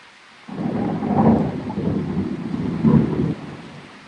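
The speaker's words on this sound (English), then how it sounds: "Oh, there's lightning." Thunder rolls through a summer thunderstorm with rain, a deep rumble that swells and falls for about three seconds over a soft wash of rainfall, with no voices.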